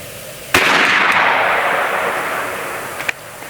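A BinTac M50 .457 big-bore airgun fitted with a regulator fires once: a loud, sharp crack that tails off in a long, fading ring, followed near the end by a small click.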